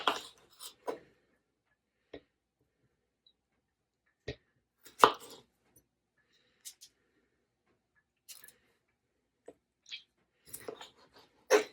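Tomatoes are cut with a knife on a cutting board, giving sparse, irregular single chops with quiet gaps between them, close and fairly soft, with brief murmurs of talk.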